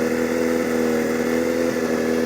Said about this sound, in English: Yeah, that's the Hayabusa.